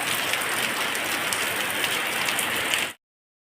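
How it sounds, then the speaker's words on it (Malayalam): Heavy summer rain pours near a canal bridge in Perambra, a dense, steady hiss of drops striking surfaces that holds at an even loudness with no voices and then cuts off abruptly. "മഴ തുടർന്നുകൊണ്ടിരിക്കുകയാണ് മഴയ്ക്ക് ഒട്ടും ശമനമില്ല"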